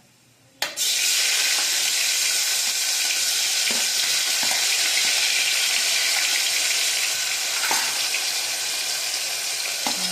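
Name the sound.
asafoetida and tomatoes added to hot oil, sizzling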